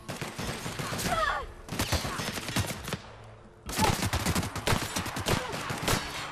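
Rapid bursts of hip-fired gunshots in The Outer Worlds, loud and close, in several dense volleys with brief gaps between them.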